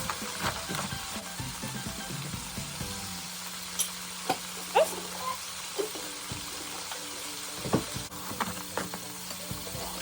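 Crabs cooking in a pan with no water, a quiet sizzle and frying crackle with occasional stirring clinks and knocks against the pan.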